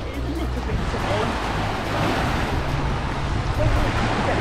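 Ocean waves wash over a large beach in Spain, a continuous roar of surf mixed with gusty wind noise on the microphone.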